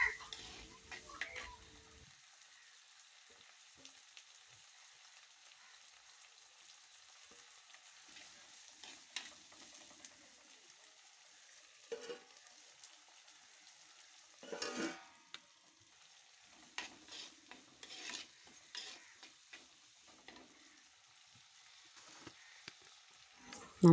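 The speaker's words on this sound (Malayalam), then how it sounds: "ഒരു പച്ചമണം മാറുന്നത് വരെ നന്നായിട്ടൊന്ന് ഇളക്കി കൊടുക്കുക." Green chillies for a prawn curry frying in a pan while being stirred, with a faint steady sizzle broken by scattered scraping spoon strokes, some louder bursts toward the middle and end.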